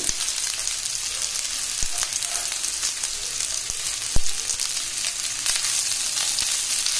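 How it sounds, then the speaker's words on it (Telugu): Vegetable fried rice frying on a high flame in restaurant style: a bright, continuous sizzle with scattered stirring scrapes and a couple of sharp knocks from the spatula, nearby and without speech. "ఇది హై ఫ్లేమ్ మీదే వేగాలి."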